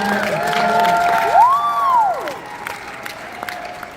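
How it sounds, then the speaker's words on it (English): An audience at the launch of Fuel Factor X bursts into applause with cheering and whoops, a loud, dense crowd sound holding steady before gradually thinning out. "So give them a round of applause"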